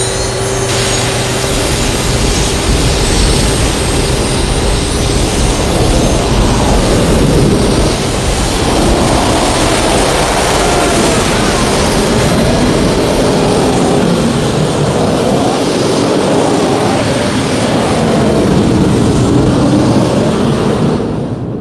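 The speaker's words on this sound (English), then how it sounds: "replaced it with jet engines from MiG-21 fighter planes" A loud, steady roar of MiG-21 jet engines mounted to blow out a burning oil well in Kuwait, a continuous blast of engine noise with water injected into the jet stream.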